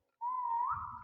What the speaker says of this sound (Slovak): Dobre, už pískam.